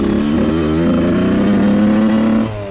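A Suzuki RM 85 two-stroke dirt bike engine revs high and steady up close with a buzzy, raspy tone, then drops off abruptly near the end.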